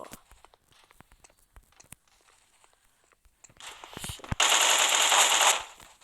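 Automatic gunfire in the mobile shooter Blockpost Mobile: scattered light clicks and footsteps, then a dense, loud burst of rapid shots lasting over a second before cutting off.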